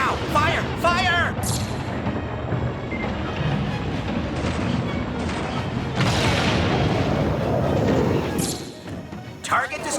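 Missile fire and explosions in Super Smash Bros for Wii U, a dense continuous wash of booms and crashes with beeping tones, voices talking over the steady loud noise.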